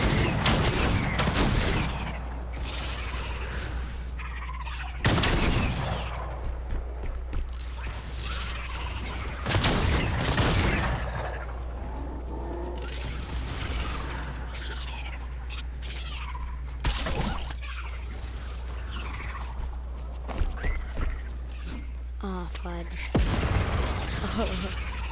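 Gunfire and grenade blasts from the video game Outbreak, with sharp broadband bursts at intervals over a steady low hum and a voice talking in the background.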